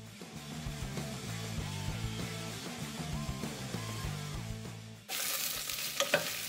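Sliced onion frying in olive oil in a pan over medium heat, a soft continuous sizzle under quiet music, followed by a sudden louder burst of sizzling and stirring near the end.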